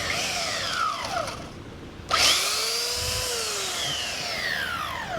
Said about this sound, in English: see if the belt sander will just cut down all the bulk and everything